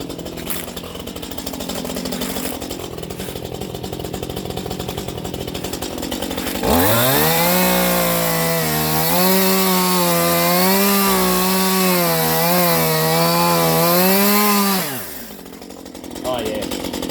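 A chainsaw with a newly sharpened chain idles, then bites into wood for about eight seconds with a loud, steady buzzing whine before dropping back to idle, with a voice heard briefly around it.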